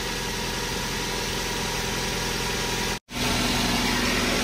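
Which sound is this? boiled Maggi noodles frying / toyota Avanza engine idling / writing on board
toyota Avanza engine idling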